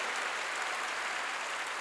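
Church congregation clapping during a sermon, a soft, continuous wash of many hands heard from a distance, steady and unbroken with no voices over it.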